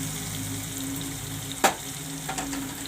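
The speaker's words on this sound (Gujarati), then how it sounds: "તો ટમેટાને આપણે ઘડીક તળવા દેવું।" Tomatoes fry in oil for a cashew and potato curry, giving a steady close sizzle with one sharp clink of a utensil partway through and a few faint stirring touches after.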